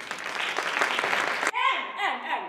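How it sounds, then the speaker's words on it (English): Applause from a live science-comedy audience in an auditorium, a dense clapping burst that cuts off abruptly midway as a voice takes over. "Give her a round of applause as she stands"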